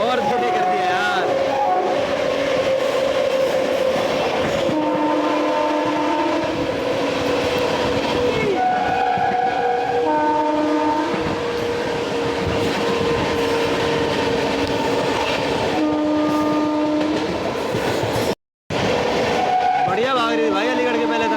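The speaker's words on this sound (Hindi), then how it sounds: "WJ12 के साथ गुड्स ट्रेन के साथ क्रॉसिंग हुई अभी" A goods train crosses the Delhi–Patna Amrit Bharat Express near Aligarh Junction, heard from inside a general coach as a loud, continuous rumble and rattle of wheels with sustained horn-like tones throughout and a brief cut near the end.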